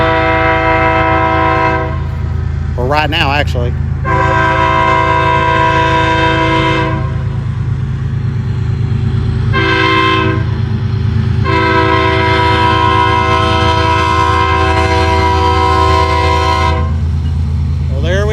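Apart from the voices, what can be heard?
train passing loudly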